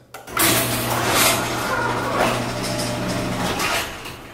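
Garage door rumbling steadily as it opens, with a loud onset and a sustained mechanical grind that continues for several seconds, with faint pops along the way.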